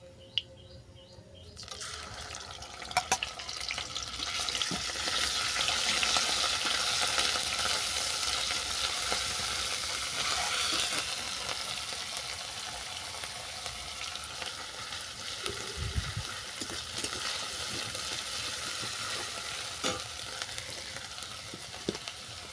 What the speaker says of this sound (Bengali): ফোড়নটা ভালো করে ভেজে নেওয়ার পর দিয়ে দিচ্ছি পেঁয়াজ বাটা